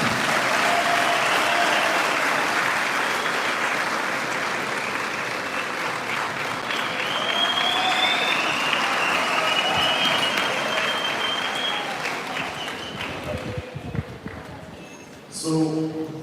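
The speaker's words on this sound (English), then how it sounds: "take this opportunity to appreciate and give a round of applause to President Zuma" A gala dinner audience breaks into sustained applause, a dense wash of clapping that swells and holds before tapering off near the end, with a voice speaking briefly afterward.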